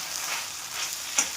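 Sabudana frying in a pan with fresh coriander gives a steady, close hiss of sizzling oil, with a brief stirring scrape near the end.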